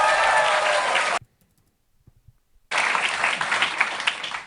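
Audience clapping during a Starmer speech comes in two bursts of dense applause, cut apart by an abrupt stretch of near silence.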